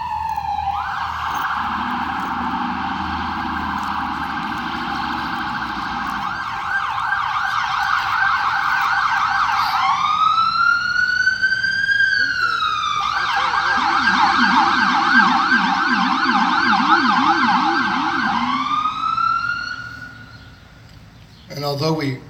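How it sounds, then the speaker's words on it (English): Emergency vehicle sirens wail loudly and continuously, rising and falling in long sweeps with a faster yelp pattern partway through, heard during a May 29 memorial name reading for those who died in the War on Terror. "just giving the sirens a moment."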